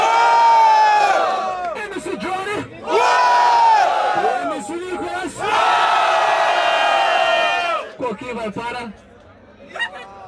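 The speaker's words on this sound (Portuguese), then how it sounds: "Barulho, quem gostou da rima do freestyle do MC Nicolas?" Crowd at a Brazilian freestyle rap battle semifinal roars with loud cheering and shouting in long sustained bursts, swelling and dropping several times, with scattered yells between waves.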